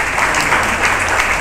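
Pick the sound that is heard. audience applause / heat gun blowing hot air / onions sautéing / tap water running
audience applause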